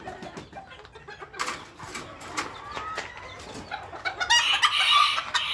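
Miniature roosters and hens at a breeding farm at Rancho El Barzón cluck and chatter in overlapping bursts, then a rooster crows loudly near the end.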